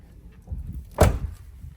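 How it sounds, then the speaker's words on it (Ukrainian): A soft, muffled thunk of a 2013 Opel Vivaro passenger van door shutting quietly, single and close, with low rumbling background noise before and after. "От чути, як дверки закриваються тихенько."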